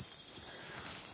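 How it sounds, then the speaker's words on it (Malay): Unusual frog calls on a mountainside sound as a faint, steady chirring chorus with a thin high tone, soft and distant, with no voices. "Kedatangan saya disambut dengan bunyi yang katak yang agak pelik."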